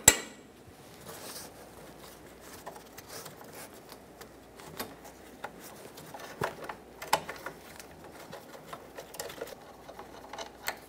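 A 13 mm wrench works loose a bolt on the fuel vapor charcoal canister of a 2007-2014 Chevrolet Silverado 2500 HD truck, giving faint, scattered metallic clicks and ratcheting ticks at close range.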